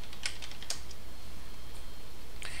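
Quiet clicking of keys on a computer keyboard as a root password is entered, a few soft taps in a short irregular burst, close and alone without talk.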